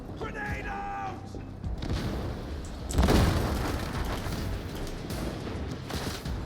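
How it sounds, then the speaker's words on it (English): A grenade blast in the video game Darktide, a sudden broad roar about halfway through that rises over ongoing battle noise and fades slowly, with people talking throughout. "Grenade out!"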